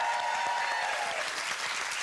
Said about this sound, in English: I'm clapping myself.